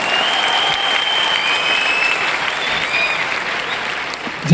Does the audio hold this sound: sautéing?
no